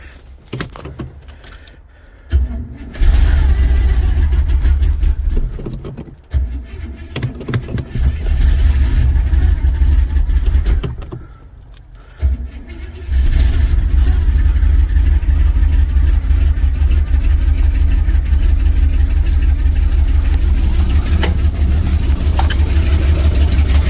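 A 1973 Buick Riviera boattail with gas poured into the carburetor cranks and fires up, its engine roaring loudly and close, stumbling and dropping out a couple of times before settling into steady running.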